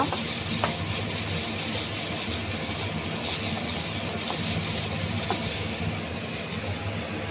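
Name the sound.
onions frying in a pan for chicken masala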